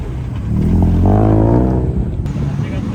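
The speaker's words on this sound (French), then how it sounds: "Petite Mark II en mode drift, bien énervée" A Toyota Mark II drifting rises in a loud, close engine rev that swells and then fades over a few seconds, with a voice talking over it.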